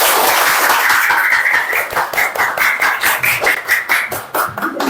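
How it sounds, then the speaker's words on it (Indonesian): Students in a classroom clapping for classmates after a presentation, a loud, dense burst of applause that settles into a steady rhythmic clap before fading slightly, close by. "Oke, tepuk tangan dulu untuk teman-temannya."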